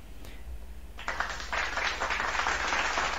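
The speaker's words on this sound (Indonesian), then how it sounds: "Oh, ini tepuk tangan." Recorded applause played back on a small device, a dense wash of many clapping hands that swells in abruptly after a second of quiet and holds steady to the end.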